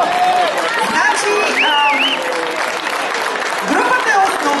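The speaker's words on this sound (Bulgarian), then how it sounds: "Бурни аплодисменти за тях." Loud, sustained applause from a festival crowd greeting a large New York bagpipe band of about a hundred pipers, with scattered cheers and voices throughout.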